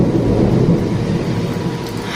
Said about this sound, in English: So yeah, it's raining and there's lightning.